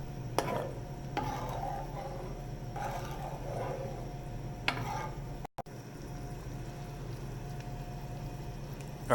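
A spoon stirs crushed tomatoes into a bubbling roux for a chicken and sausage étouffée, giving soft, scattered scrapes and wet clicks over a steady low kitchen hum, with a brief dropout midway.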